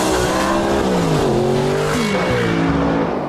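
An Audi R8 sports car, the maker's fastest production road car, drives past with a loud engine note that rises and falls through gear changes, close and alone.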